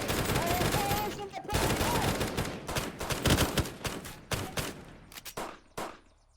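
Gunfire in the video game Unturned: a rapid burst of overlapping shots, then scattered single cracks thinning out toward the end, fairly close and punchy, with some shouting voices mixed in.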